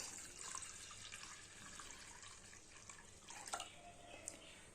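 Water runs and trickles into a pressure cooker holding lentils, a faint splashing pour with small drips, heard alone without talk.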